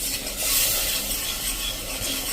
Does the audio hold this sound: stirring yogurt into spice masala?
yes